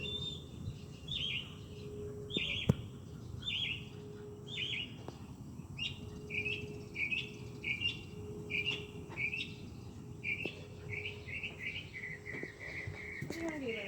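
A small rescued bird chirps in a steady run of short, high tweets repeated about every half second, fairly close over a low indoor hum, with people talking quietly underneath.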